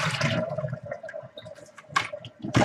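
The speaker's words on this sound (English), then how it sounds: "So I'm going to get those drained." Water pours off peeled potatoes being drained in a kitchen, splashing and gurgling in short uneven bursts, close and moderately loud.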